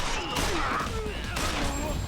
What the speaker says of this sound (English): I knew the third gunshot would take care of the last guy